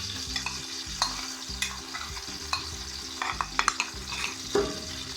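Ginger garlic paste frying in hot oil in a pan, a steady close sizzle broken by regular scraping strokes of a spoon stirring, with occasional clinks against the metal, no talking.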